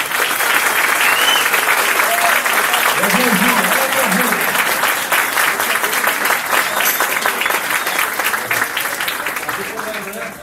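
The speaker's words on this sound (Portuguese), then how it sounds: "peço uma salva de palmas" Sustained applause from a crowd at a training event, honouring Vanderlei Cordeiro, dense clapping that holds for about ten seconds, with a few voices murmuring underneath before it tapers slightly at the end.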